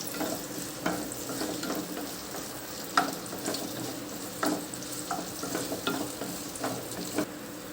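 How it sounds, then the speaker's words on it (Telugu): Tempering spices crackle and sizzle in hot oil for a taro curry, a continuous close fry with repeated stirring scrapes and sharp spatula knocks against the pan. "ముందుగా నూనె కాగిన తర్వాత తాలింపు వేసుకోవాలి"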